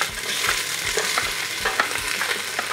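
Lobster fries in a hot pan with a bright, close sizzle, broken by regular scraping stir strokes about every half second.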